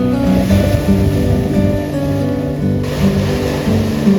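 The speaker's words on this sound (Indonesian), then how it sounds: "suara mesin perahu berpadu dengan debur ombak menciptakan latar suara" A fishing boat engine drones steadily beneath the rushing wash of ocean surf off Banda Aceh, a continuous loud mix with no voices.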